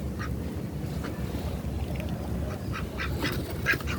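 Ducks quacking in a garden beside compost bins, a few short nasal calls spread through the clip over steady low outdoor rumble, moderately close and not very loud.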